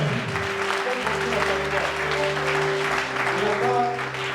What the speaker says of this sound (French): Acclame bien le Seigneur Jésus, acclame bien